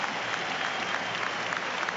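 A large stadium crowd at Celtic Park applauds as a new manager walks out before a Celtic versus Hearts match, a broad, even wash of distant clapping that holds steady throughout.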